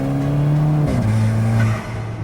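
An Alfa Romeo 4C mid-engine sports car revs loud and close on a track, its engine note holding steady, dropping briefly, then settling at a lower pitch before easing off.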